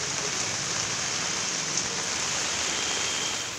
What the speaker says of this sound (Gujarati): શહેર અને ગ્રામ્ય વિસ્તારોમાં વરસાદ ખાબક્યો.